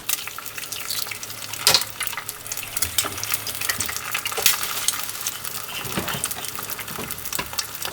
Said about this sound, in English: So I'm going to put about 2 eggs in there to scramble